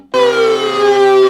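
A synthesizer with two oscillators and hard sync switched off holds a single rich, buzzy sustained note, loud and alone, with a slight pitch drift before it cuts off.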